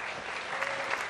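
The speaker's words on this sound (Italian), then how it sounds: "Un applauso al cavaliere" Brief burst of audience applause in a theatre variety show, steady dense clapping heard for about a second at moderate loudness.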